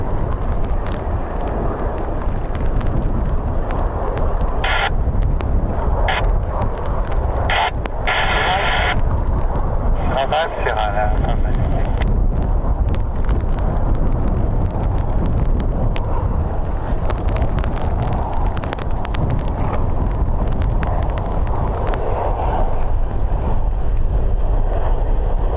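Aircraft arriving on the runway at Dublin Airport in strong crosswinds during Storm Bert, a steady broad roar heavily mixed with gusting wind buffeting the microphone throughout, with brief radio chatter bursts early on.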